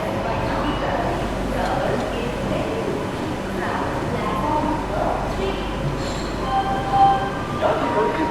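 A CR Rajdhani Express train leaving the station at Itarsi, a steady low rumble of carriages with clanks and a platform announcement voice over it.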